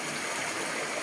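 Waterfall inside a cave with three falls and a lake, a steady, dense rush of falling water close by, with no voices.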